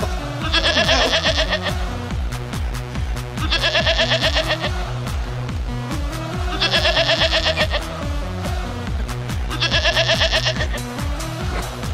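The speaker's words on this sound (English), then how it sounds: "You got a little bit of goal horn with a little bit of goat." Goat bleating in a loud, repeating rhythmic pattern, four bursts of bleats spaced evenly over a steady pulsing backing, mixed with a goal horn.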